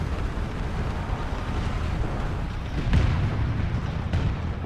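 Tank cannon fire in the War Thunder video game, a deep low boom that sounds over a constant loud rumble of engine and wind, with a sharper report near the end.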